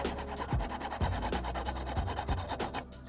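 A metal ring is cut open with a saw blade, giving close, rhythmic rasping strokes at roughly two per second. They repeat steadily and stand alone without talk.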